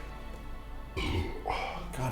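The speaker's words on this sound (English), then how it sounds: "I can't stop burping." A person gaming through Final Fantasy XIV lets out a couple of throaty burps close to the microphone, each one short and guttural, with a low steady background hum.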